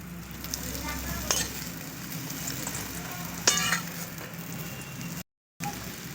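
An egg paratha fries in white oil on a pan, a steady close sizzle with a couple of sharp clicks from the utensil and a brief dropout near the end.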